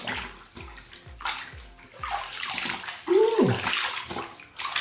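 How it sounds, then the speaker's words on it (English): Water splashes and sloshes as someone rinses their face after shaving, a rhythmic series of scooping splashes followed by a louder gush and gurgle, close by. "Now, let's rinse the face."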